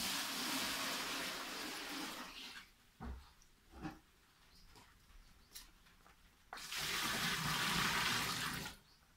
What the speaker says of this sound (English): So this is the second load. I'm gonna add more water.